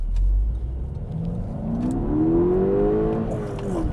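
A Mk2 SEAT Leon Cupra R accelerating hard, heard from inside as the engine note climbs steadily through the revs, loud and continuous, with faint road rumble underneath.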